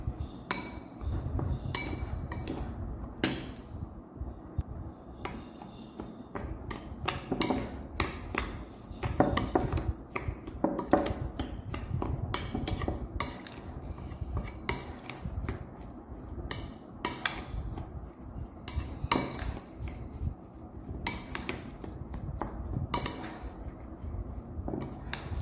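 A spoon clinks and scrapes steadily against a bowl while Malay pickle ingredients with chilli powder and sugar are mixed, a dense run of sharp metallic taps close by with no talking.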